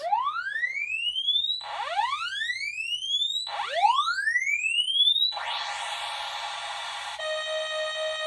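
Commodore 64 SID sound chip running test tones: a loud series of rising electronic sweeps repeating in a steady rhythm, then a burst of harsh noise and a final steady buzzing tone, with no talking.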